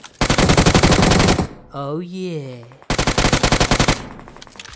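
Rapid automatic machine-gun fire in a shooting video game: two dense, loud bursts of fast shots separated by a brief pause in which a person exclaims.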